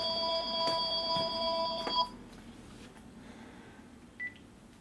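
A telephone rings in a motorcycle workshop during a Harley 650 single XL Sportster rebuild, giving a few bright electronic ring bursts over about two seconds, then a quieter room with one short faint beep.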